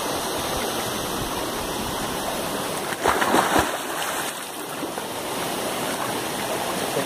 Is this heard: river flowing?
yes